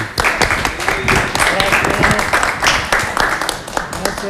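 An audience claps for a professor on a Spanish-language program, a burst of applause mixed with chatter and voices heard throughout.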